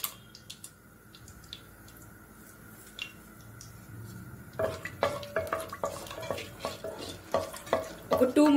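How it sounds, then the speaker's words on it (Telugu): Biryani whole spices drop into hot oil for flavored rice, and after a quiet stretch a sudden crackling sizzle starts up with stirring scrapes and pops close by. "ఇప్పుడు మనం బిర్యానీ స్పైసెస్ ని వేసుకుందాం"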